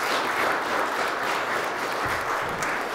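A church congregation applauds after a musical group's performance at a Sunday service, with steady, full clapping from many hands that fills the room and holds throughout without talk.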